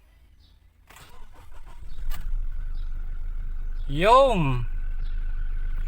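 A 2017 Toyota Fortuner after an engine bay wash, with a dashboard click and then the engine cranking and catching, settling into a steady idle as a voice briefly rises over it.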